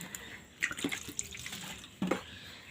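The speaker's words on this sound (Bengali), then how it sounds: "এবার পেঁয়াজের যে রিংগুলো আছে এটা কিন্তু ভালো করে জল দিয়ে ধুয়ে নিন" Onion rings being rinsed in water, with a few splashing, trickling bursts of liquid against a quiet background; no voices.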